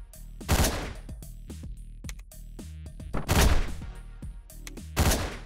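Repeated gunshot bursts from the top-down action game Hotline Miami, loud sharp blasts in several volleys with thumping music beating underneath.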